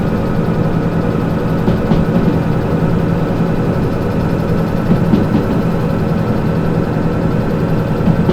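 A train locomotive in the Derail Valley railway simulator game pulls away with a steady, loud, low engine drone and a constant rumbling hum that holds throughout with no talking.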